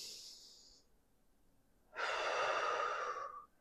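A long, deep breath during a yoga stretch: a brief exhale fades out, then after a pause a loud, steady inhale or exhale lasts about a second and a half, heard close and alone.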